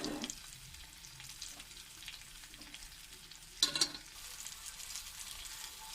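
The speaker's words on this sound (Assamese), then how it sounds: "দুই মিনিটমান ইটো চাইডে লুটিয়াই ভাজিলোঁ।" Masala fries in a pan as it is turned over, a faint steady sizzle with a brief louder scrape of stirring midway.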